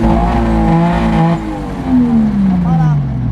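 A race-prepped car engine revs hard and holds against its rev limiter, a loud near drone that bounces and cuts at the top before falling and climbing again.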